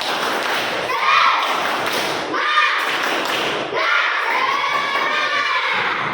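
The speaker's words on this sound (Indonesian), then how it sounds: "coba tepuk semangat" A group of schoolchildren at an Indonesian school performs a rhythmic spirit clap in bursts, with thumping claps and loud shouted chanting close by, pausing briefly between rounds.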